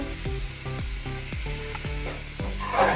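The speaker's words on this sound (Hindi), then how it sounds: "एकदम मध्यम आंच पर इसको हम चलाते रहेंगे ताकि ये नीचे से जलने ना पाए" Ground almonds, sugar and khoa are stirred in a kadhai over medium heat, giving a continuous sizzle broken by repeated scraping strokes of the spoon against the pan, close and fairly loud, with no talking.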